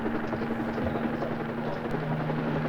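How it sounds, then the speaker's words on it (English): A small helicopter from the 1951 film When Worlds Collide flies overhead, its rotor producing a steady, continuous chopping drone that stays loud and even throughout. "This helicopter's tiny, by the way, isn't it?"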